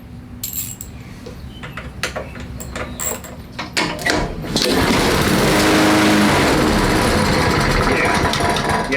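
A Honda small engine fitted with an aftermarket carburetor clatters and ticks unevenly at first, then catches and runs loud and steady for the second half of the clip.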